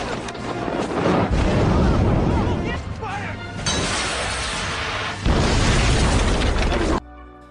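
Explosion in a movie scene as prisoners blow up Winter's office, a loud sustained roar of blasts and debris with bursts and a sharp jump in intensity before cutting off abruptly, speech mixed beneath the chaos.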